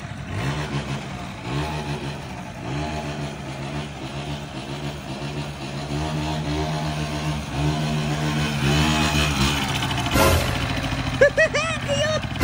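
A Honda Zook 50cc scooter engine putters at close range with a pulsing idle that briefly revs and settles, while people talk faintly in the background.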